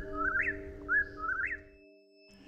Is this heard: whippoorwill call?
yes